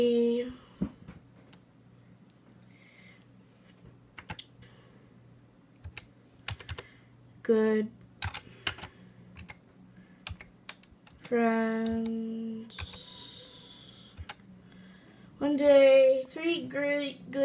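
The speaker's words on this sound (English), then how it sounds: "I'm just going to read it to you while I'm typing it." Computer keyboard typing: scattered, fairly close key clicks come in irregular bursts, broken up by stretches of a person speaking.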